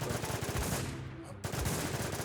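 Rapid bursts of gunfire in the game WarZ Infestation crackle loudly, a short pause, then the automatic shooting starts up again.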